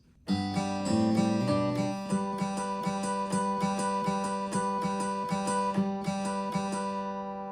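A finger-picked acoustic guitar in standard tuning plays the intro of a song, a steady, ringing pattern of plucked notes over bass tones, clear and close with no voices.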